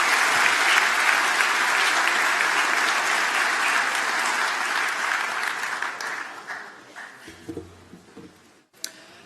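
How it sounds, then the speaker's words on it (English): A commencement audience gives a round of applause for information technology graduates at a university engineering ceremony, loud dense clapping that thins out and fades after about six seconds into scattered claps. "give a round of applause to our graduates in information technology"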